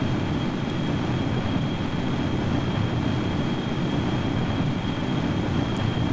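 Jet engines of a VTOL single-stage-to-orbit spaceplane in the video game Kerbal Space Program, a loud, steady roar with a thin constant whine, continuous and unbroken.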